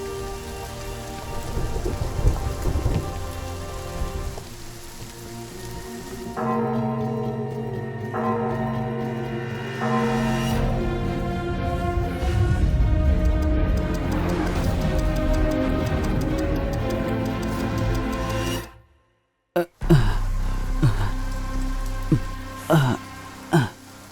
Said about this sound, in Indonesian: Hujan ini sempurna.